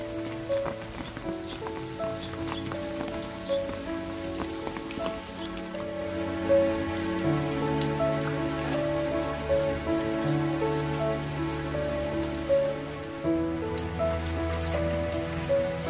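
Steady rain falls around an outdoor garden of potted plants and bonsai, a dense continuous patter at moderate level with some brief tonal sounds layered over it and no talking.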